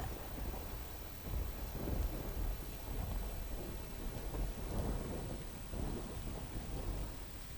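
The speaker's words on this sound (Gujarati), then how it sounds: "વરસાદ વરસી રહ્યો છે" Heavy rain pours down steadily in Rajula, Amreli, Gujarat, with low rolling rumbles of thunder swelling and fading beneath the downpour.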